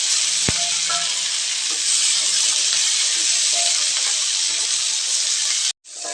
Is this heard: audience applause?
no